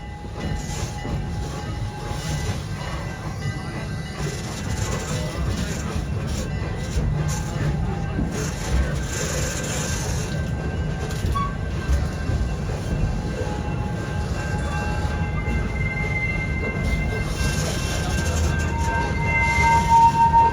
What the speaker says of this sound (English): We are now pulling back into the Nairobi train station.